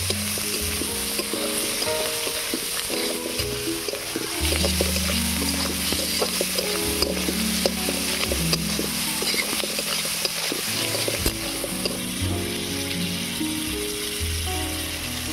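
Shrimp sizzle and fry in a pan with garlic, turmeric, chili powder and salt, a loud continuous crackle with stirring scrapes and clatter throughout and no talk.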